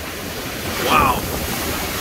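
Storm-driven ocean waves surge and wash past a dive-boat anchorage in the Philippines during Tropical Storm Dante, with steady wind buffeting the microphone; a louder wave swell peaks briefly mid-clip as a man exclaims once.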